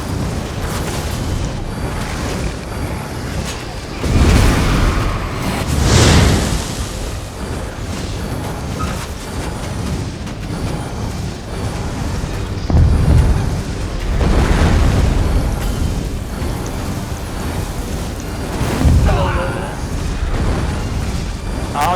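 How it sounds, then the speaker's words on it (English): A boss hurling fire attacks during a Veteran Hel Ra Citadel battle: loud booming, whooshing blasts swell every few seconds over a constant churn of combat noise. "the boss is throwing fire at me"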